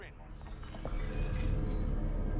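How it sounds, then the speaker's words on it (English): Glass shatters nearby in Warzone, a short crash heard over steady game noise and a low rumble, with a faint voice in the background. "Oh, somebody's breaking glass."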